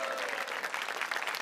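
An audience at a stand-up comedy show claps in a sustained burst, a dense crowd clatter right from the start.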